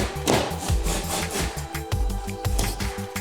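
A hand saw rasps back and forth through drywall in quick, even strokes, close and fairly loud, with no voices.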